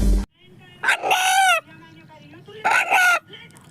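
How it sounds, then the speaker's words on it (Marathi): A village rooster in drought-hit Maan taluka, whose crow is said to resemble the word "Anna", crows twice loudly and close by after a short sharp burst at the start. "अण्णा या नावाने हाक मारणारा कोंबडा"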